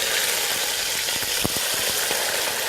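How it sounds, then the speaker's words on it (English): Chopped vegetables, the onion, celery and pepper trinity, fry in hot bacon fat in a skillet, giving a steady loud sizzle with small spitting pops throughout. "Now this thing is sizzling hot over here. Hot, so it's going to probably make some noise and a little bit of splatter."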